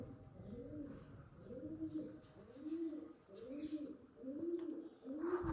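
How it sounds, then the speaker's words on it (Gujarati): Pigeons coo in an old temple stepwell, soft rounded calls repeating in a slow, regular rhythm, close and echoing in an otherwise quiet space. "ખાલી કબૂતરનો અવાજ આવે છે."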